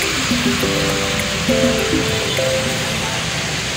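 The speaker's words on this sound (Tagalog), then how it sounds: "Grabe ang lakas ng ulan." Heavy rain hisses steadily in the background while voices talk over it close by.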